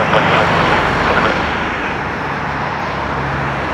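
A TAP Air Portugal Airbus A330-900 roars loudly on the runway at takeoff at Curitiba, a dense, steady broadband jet engine rush that eases slightly after the first second.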